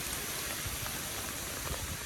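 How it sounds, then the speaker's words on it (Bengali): Heavy rain pours during a fishing outing near hills, a steady dense hiss filling the air at close range with scattered low thumps of drops striking nearby surfaces, continuous and unbroken with no voices. "খুব বৃষ্টি হইলো, বাপরে বাপ"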